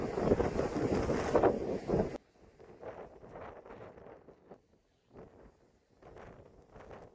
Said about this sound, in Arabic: هي طبعا العبارة سريعة ما شاء الله